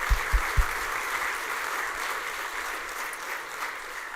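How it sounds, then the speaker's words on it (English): Applause from a conference audience, a broad, even roar of many hands clapping at a distance, with a few thuds near the start, steady throughout. "one more round of thunderous applause for the amazing Beth"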